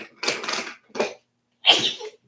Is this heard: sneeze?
yes